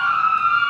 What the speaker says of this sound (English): because there's an ambulance going by